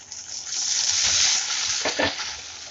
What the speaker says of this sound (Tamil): வெங்காயம் நல்லா வதங்கிடுச்சு, இன்னும் வதங்கட்டும்